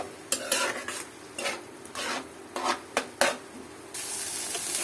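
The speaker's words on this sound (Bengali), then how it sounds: "এইভাবে করে এটা নাড়তে হবে" Dried fish is stirred with bottle gourd leaves in a pan, giving a steady soft sizzle broken by repeated scraping strokes of the spoon, with a louder frying hiss at the end and no voices.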